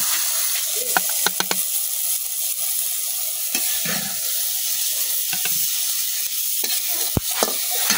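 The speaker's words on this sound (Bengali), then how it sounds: "এখন টমেটোগুলো খুব সুন্দর করে ভাজা দিলাম।" Tomatoes sizzling as they fry in a pan, a constant hiss broken by scattered scraping and clinking as they are turned over, close and fairly loud.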